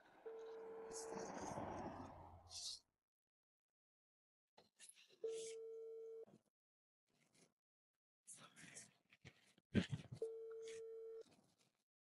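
An outgoing call sounds a repeated ringback tone, a few steady beeps spaced apart, with someone speaking quietly before and between them.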